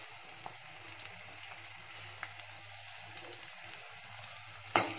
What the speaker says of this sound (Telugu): హైలోనే పెట్టుకున్నాను ఫ్లేమ్. ఇవి బాగా వేగనివ్వాలి.